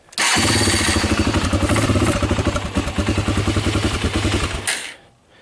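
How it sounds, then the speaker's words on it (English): A Honda TRX300EX ATV fires up on its OEM ignition after a no-spark repair. The engine catches immediately and runs loud and close with a rapid, pulsing single-cylinder chug for about four seconds before it cuts out. "So this thing should now start up on the OEM ignition."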